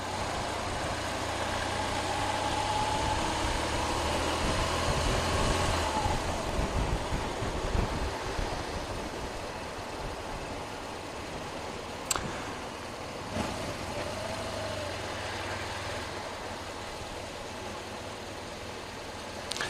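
A car being driven along a road, heard from inside the cabin as a steady low engine and road rumble with some wind noise, continuous and moderately loud, with one brief sharp click partway through and no talking.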